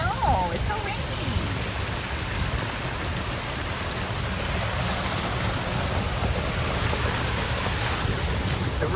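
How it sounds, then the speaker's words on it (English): Dense, steady rainfall from Hurricane Elsa hisses continuously, loud and close, with a low rumbling wash underneath and no pauses. "It's so rainy."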